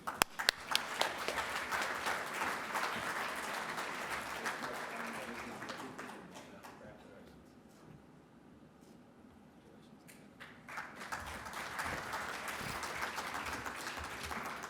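A reception crowd applauds newly elected TAMEST members, dense clapping that fades to near quiet midway and then swells again into a fresh round.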